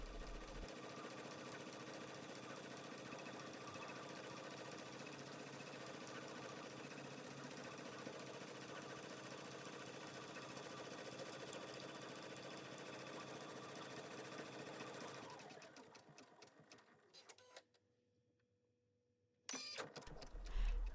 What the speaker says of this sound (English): After the tack down, it's going to stitch an outline around the entire tooth.